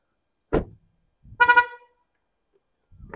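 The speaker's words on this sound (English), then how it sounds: "That honk means that the key is still inside the car, so it kind of reminds you, please take your key." A 2024 MG ZS SUV sounds its horn as a warning that the key is still inside the car. Two short honks, the second a quick double, ring out close by in near silence.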